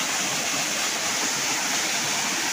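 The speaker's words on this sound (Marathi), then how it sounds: "धबधबा." A waterfall roars as a dense, constant wash of rushing water, loud and close throughout with no pauses.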